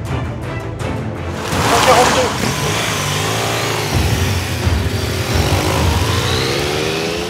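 Cars rush past on a busy two-lane French national road limited to 110 km/h, a loud, near engine surge swelling around the second mark, then steady traffic roar with a voice speaking over it.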